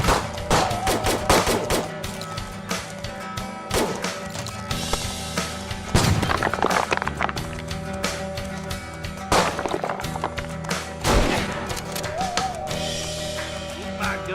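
Gunfire in the VR western game Hopalong: The Badlands, with dense bursts and single shots crackling throughout, set against busy music and game noise.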